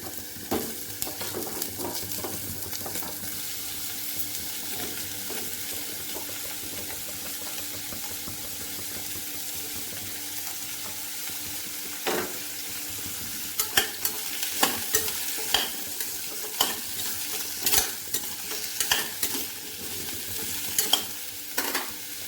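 Pumpkin pieces stir-fried with onion and curry leaves in a pan, a low steady sizzle broken by scraping stirs and spoon knocks that grow more frequent in the second half, with no voices.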